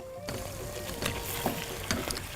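Meat sizzles and spits in hot oil in a cooking pot, a steady dense crackle with scattered louder pops throughout and no talking.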